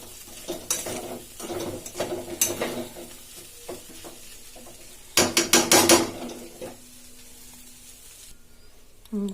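A poha mixture with coriander is stirred in a pan, giving scattered spoon scrapes and clinks, a dense cluster of loud scraping strokes midway, then quiet with a faint hiss.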